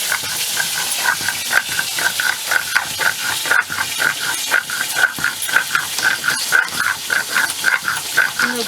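Mustard seeds and green chillies are ground by hand into a spice paste, making rhythmic, repeated rasping scrapes, about two strokes per second, close and steady, with no talking.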